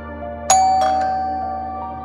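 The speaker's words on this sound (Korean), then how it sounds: "초인종이 울렸습니다" A single electronic doorbell chime rings out sharply and then fades slowly, with a steady low hum in the background.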